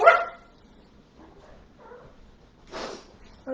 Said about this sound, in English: And that's Max barking.